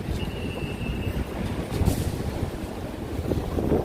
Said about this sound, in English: pretty much all the trains are coming and going through this station